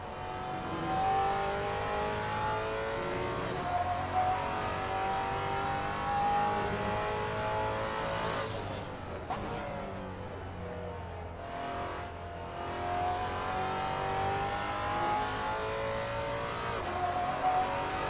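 Race car engine in Assetto Corsa, Andretti hairpin, droning steadily at high revs with shifting pitch, a brief lift and dip midway before climbing again, with faint tire sliding.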